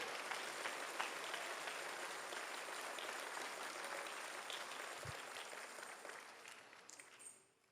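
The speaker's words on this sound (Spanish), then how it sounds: "Denle un aplauso al Señor si así usted lo siente" A church congregation applauds during a Spanish-language service: a dense, continuous wash of clapping from many hands, sustained for several seconds before tapering off at the end.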